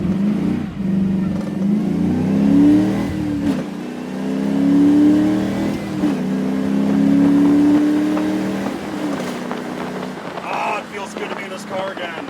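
A 1979 Camaro-based project car's engine revs up and down in several long, loud pulls, close to the microphone with some wind buffeting, before settling toward idle near the end.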